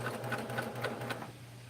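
A quilting sewing machine stitching a short four-stitch tie-off to join the top thread with the bobbin thread, a fast steady mechanical whir with rapid stitch pulses that eases off toward the end, heard up close with no talking.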